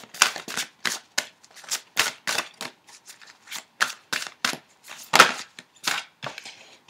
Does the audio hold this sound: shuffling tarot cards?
yes